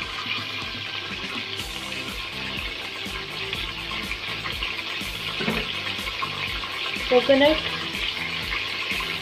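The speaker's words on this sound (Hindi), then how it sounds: "तो सबसे पहले ऑयल के अंदर हम लोग फ्राई करेंगे जितने भी नट्स हैं उनको डाल के" Nuts frying in hot oil in a home kitchen while sheer khurma is being made. A steady, soft sizzle continues under a person talking, with a few clinks and stirring noises toward the end.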